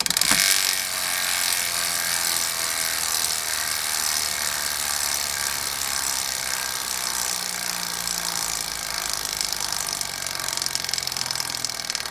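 Rapid, steady ticking from a Hadley Racing bicycle hub freewheel on a wheel with We Are One rims, recorded with the microphone right beside it; a dense, continuous buzz-like clicking that stays loud and even throughout, with no talking.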